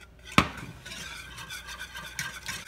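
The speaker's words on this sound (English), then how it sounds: "so you want to constantly stir it" A spoon stirs bittersweet and semi-sweet chocolate in a pot, opening with one sharp clink against the metal and then moving into soft, irregular scraping and rubbing close by.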